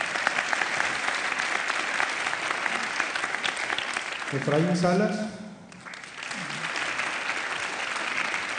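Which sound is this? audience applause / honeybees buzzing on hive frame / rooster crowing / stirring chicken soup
audience applause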